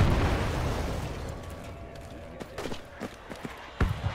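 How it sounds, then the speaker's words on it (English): Mortar shells burst in the tactical shooter Project Reality during an urban firefight: a dense, rumbling battle din opens the clip, then several sharp distant booms and pops punch through in quick succession, with faint radio-style voices underneath. "Mortar's coming."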